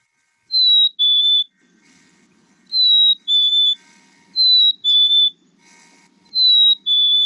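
Eastern phoebe song in a backyard setting: clear, whistle-like two-part phrases repeated four times in an even rhythm, fairly loud and close, with short quiet gaps between phrases.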